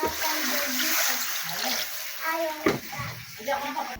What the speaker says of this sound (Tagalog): bigyan natin tubig.